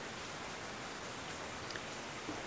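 Steady rain falls during Hurricane Harvey, a soft, even hiss of drops on surfaces with occasional faint louder droplets, no voices over it.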